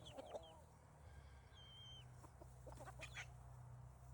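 Chickens on a farm, including young birds of lavender, laced and dark colouring, give faint, scattered clucks and short calls against a steady low background hum.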